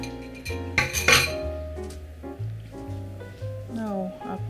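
Eggs are added to a bowl for a green banana pie, with a few bright glassy clinks and taps against the bowl while a person talks over them.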